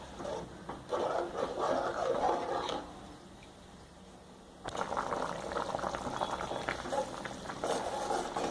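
Tamarind-water eggplant curry (ennai kathirikai kulambu) bubbling in a pot, a steady busy simmering hiss and bubbling that drops away briefly mid-way, then returns at full strength.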